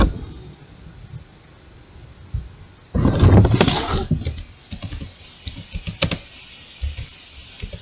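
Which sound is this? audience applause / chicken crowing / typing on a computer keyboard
typing on a computer keyboard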